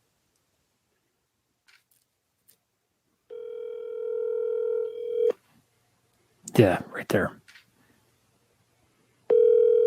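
A telephone call rings out unanswered, with two long, steady ringback tones heard through the handset and a short burst of speech between them.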